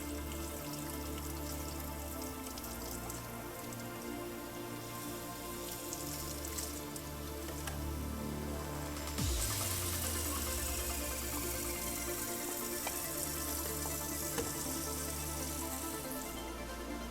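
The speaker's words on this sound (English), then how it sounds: "Fixer stage is done. All right, so we're going to do first rinse." Water runs steadily to rinse photographic film in the first rinse after the fixer stage of home film developing, a continuous hiss and patter like light rain that swells louder partway through, close and with no talk.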